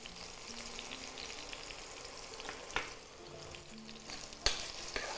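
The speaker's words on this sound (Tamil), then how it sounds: "ஆனால் கொஞ்சம் நல்லா மெல்ட் ஆகி வதங்கணும் தக்காளி" Chopped tomatoes with salt soften in a pan over a quiet, steady sizzle, broken by a couple of sharp spatula knocks and scrapes, nearby and faint, with no voices.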